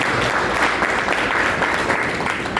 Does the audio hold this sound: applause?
yes